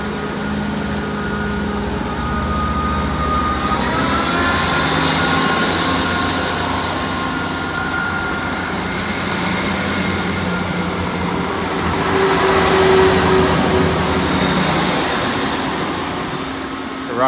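Great Western Railway Class 166 diesel multiple unit, 166 212, departing Bradford-on-Avon station for Cardiff Central, a steady engine drone and rumble building slightly as it pulls away, held throughout at close range with station ambience.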